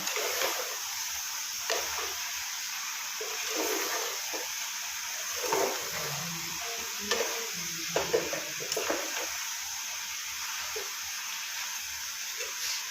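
Tomato masala with garam masala being stirred and left to cook in a pan, a soft steady sizzle with scattered scraping stirs of the spoon, fairly quiet and close, with no talking.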